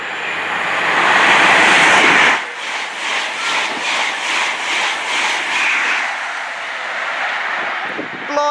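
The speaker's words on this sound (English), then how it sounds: "it's going to be another HST from Plymouth to London Paddington" High Speed Train running Plymouth to London Paddington passing through Maidenhead station, a loud broad roar building for two seconds, then rhythmic wheel and bogie beats as the coaches sweep past close by, fading slightly near the end.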